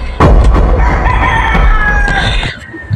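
A tall pet rooster crows loudly and close by in one long, ragged call that fills almost the whole moment before trailing off.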